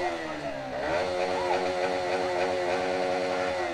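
Motorcycle engines on a street in Nepal rev steadily at close range, a buzzing mid-pitched drone with one brief rising rev, and no talk over it.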